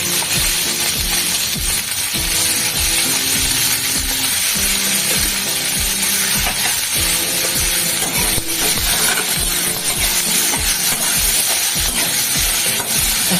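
Food fries steadily in a pan during vegetarian thali cooking, a continuous loud sizzle with rhythmic scraping and clinks of a stirring spoon against the metal, no voices over it.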